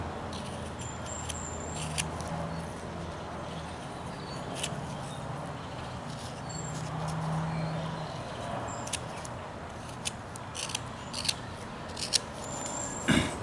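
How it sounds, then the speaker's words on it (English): A knife whittles a small wooden figure with a big head, giving quiet, close scraping and shaving sounds with occasional sharper clicks of the blade, soft and continuous throughout. "This is whittling, folks. This is the joy of whittling right here."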